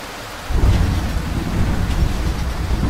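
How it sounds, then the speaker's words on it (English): Heavy thunderstorm in the Roblox game Greenville: a loud, steady wash of rain with deep rumbling thunder that swells in after a quiet half-second and rolls on without a break. "The storm is still going, but I think it's pretty much dying down."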